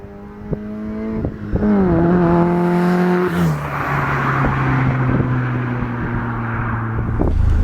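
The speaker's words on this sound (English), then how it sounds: "the wind noise likes to defeat the microphone, as well as the exhaust noise clearly" Inside an RX-5 140 on a road test drive, a loud engine and exhaust note rises and shifts pitch through the gears while wind rushes steadily over the microphone, no talking.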